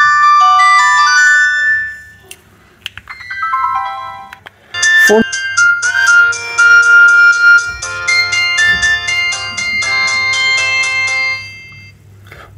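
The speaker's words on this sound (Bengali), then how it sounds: "আমরা প্রথমেই দেখে নেব যে ফোনটির রিংটোনের সাউন্ড কেমন ছিল" A keypad mobile phone plays its built-in ringtones: loud, bright electronic melodies of beeping notes, one short tune after another, with a low hum underneath.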